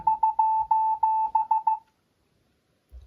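A series of short electronic beeps from a phone app in an uneven coded rhythm, about ten tones, then silence with a faint thump at the end.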